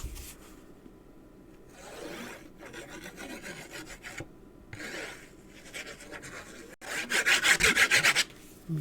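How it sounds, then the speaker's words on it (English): Rubbing the back of a vellum doily on a card to flatten it, repeated near rasping strokes in uneven bursts, strongest and fastest toward the end. "So I'm just gonna give this a good rub on the back to flatten it"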